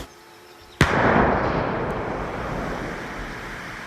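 Two 30 mm artillery shells are detonated in a controlled demining blast, a single sharp, loud explosion followed by a long rumbling roar that slowly fades.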